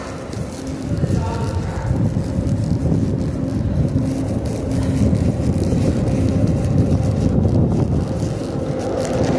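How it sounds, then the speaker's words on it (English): Strong wind roars across the microphone on the deck of the cruise ship Allure of the Seas near the Aqua Theater, a steady, low rumbling buffet, with talking under it. "it is actually so windy"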